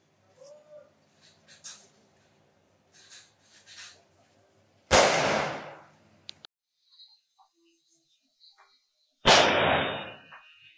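An old toy gun fires Diwali firecracker caps, two sharp, loud bangs several seconds apart, each ringing briefly, with quiet voices and background chatter in between.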